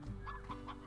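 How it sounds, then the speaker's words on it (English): Chickens in the video game Slime Rancher cluck in a few short, close bursts over a steady low hum, quiet overall. "There's like so many chickens around here"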